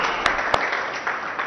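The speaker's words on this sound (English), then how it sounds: "they deserve a huge round of applause from all of us" Brief audience applause at a Formula E racing association MOU signing ceremony, a short burst of scattered clapping with a couple of sharper, louder claps standing out.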